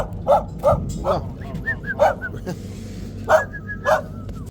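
A dog barks repeatedly at close range, short sharp barks in uneven bursts with a few whimpers and yips between them.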